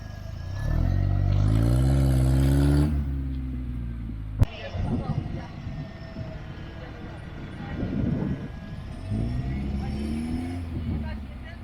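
An off-road car with one tire missing revs hard while its bare half-shaft spins, giving rising and falling engine whines in two loud bursts, with a sharp knock between them, people talking nearby and outdoor background noise.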